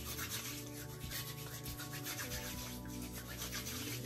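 Hands are rubbed together with a gritty, sand-like body scrub, a close, steady scratchy friction that continues for several seconds without talk.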